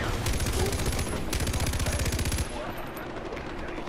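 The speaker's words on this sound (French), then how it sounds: "La mitrailleuse est très efficace." Rapid, loud machine gun bursts from Far Cry 4 gameplay, a dense rattling stream of shots for a couple of seconds that then stops, leaving a noisy battle background.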